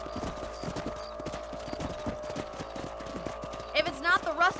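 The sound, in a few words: horse riding, from video game Red Dead Redemption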